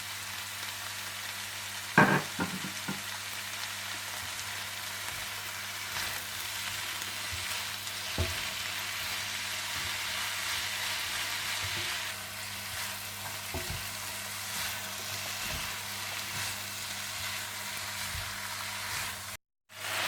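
Chicken chow mein stir-frying in a wok with white pepper, salt, oyster sauce and soy sauce, giving a steady sizzling hiss broken by repeated scrapes and taps of a spatula and a louder clatter near the start.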